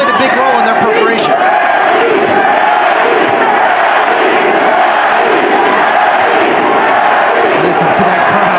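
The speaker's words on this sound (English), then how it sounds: "Just listen to that crowd. They're enjoying this." A packed boxing arena crowd roars continuously during the Pacquiao vs Barrios fight, a loud, dense wall of cheering and shouting with swells of excitement, sustained throughout.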